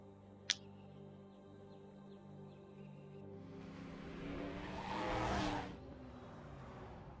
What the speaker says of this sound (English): it still sounds like a fucking muscle car even when it's a tuner